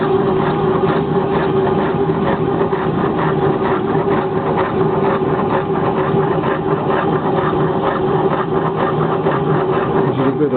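A homemade hot air engine with a displacement cylinder, built using parts from a Yamaha motorbike, runs in a confined space with a loud, steady mechanical drone and rhythmic chugging that continues without pause throughout.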